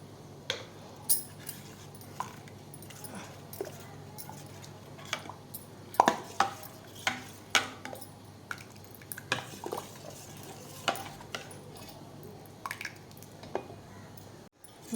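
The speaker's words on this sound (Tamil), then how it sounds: "இப்போ ஸ்வீட்காக நான் மில்க் மேட் சேர்க்குறேன்." Condensed milk goes into mango sago payasam with repeated sharp clinks of a spoon against a metal pot and soft stirring squelches, close and intermittent.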